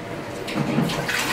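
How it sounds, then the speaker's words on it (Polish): A toilet in a costly public toilet cubicle is flushed, giving a short rushing gush of water that swells and keeps pouring, close and fairly loud, with no talk. "Weź spuść wodę, zobacz, czy jest woda."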